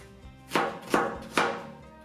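Knife chopping food on a board, likely fried-onion and fish-dumpling prep: three sharp, evenly spaced chops roughly 0.4 seconds apart, close and crisp, with no talking.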